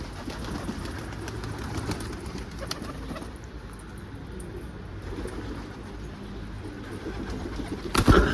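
Pigeons come down into a garden with soft wing flaps and faint cooing over a steady outdoor background hum, ending in a brief louder flutter.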